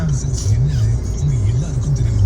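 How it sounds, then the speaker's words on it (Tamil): A car is driven through dense city traffic in Chennai, its engine a loud, steady drone from inside with a slowly wavering tone, and faint background noise throughout. "டிராஃபிக்கில் இந்த வண்டி ஓட்டிட்டு போகிறது எவ்வளோ கஷ்டம்னா"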